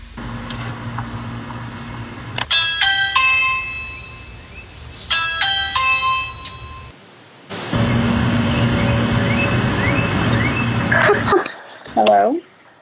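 Ring wired doorbell chime ringing indoors, a bright multi-tone chime sounding twice in close succession, then a steady background hum before a brief voice at the end.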